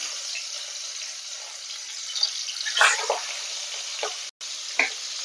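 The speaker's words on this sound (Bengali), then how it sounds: "তেল গরম হয়ে গেছে, এবার আমি চিংড়ি গাছগুলোকে হালকা করে ভেজে নেব।" Shrimp frying lightly in hot mustard oil in a pan gives a steady, close hissing sizzle with a few brief louder crackles and spatters, and no voices.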